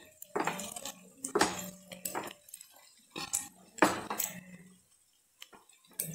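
A utensil mixes vegetable chop filling in a pan, making repeated bursts of scraping and clanking against the metal, with short pauses between strokes and a brief silence near the end.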